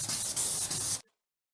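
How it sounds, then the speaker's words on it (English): A close, steady rasping rub with a hissy edge as fine sandpaper wet-sands a surface in firm horizontal strokes, stopping abruptly into silence after about a second. "sand it horizontally with firm pressure"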